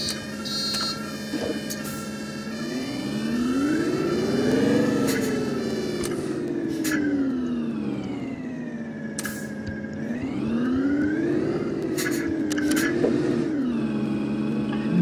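An Orion VII bus engine in the OMSI 2 bus simulator drones steadily and rises and falls in pitch as the bus drives and accelerates, with a whining tone and occasional sharp clicks over it.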